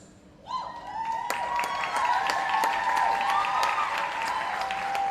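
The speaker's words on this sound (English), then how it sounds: "So I want you to applaud the sponsors." Loud audience applause for the sponsors at the Marcus Garvey Awards for Excellence in the Performing Arts, rising sharply after a brief quiet, with sustained clapping mixed with whistles and cheering from the crowd.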